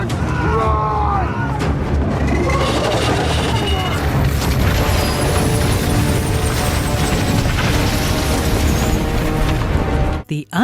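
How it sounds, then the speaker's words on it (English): Undead dragon fire from Viserion tearing down the Wall in Game of Thrones: a sustained, loud roaring rush with rumbling booms and crashing debris, which cuts off abruptly near the end. "The undead Viserion's fire cut through the wall in moments, with Tormund and Beric unable to do anythin"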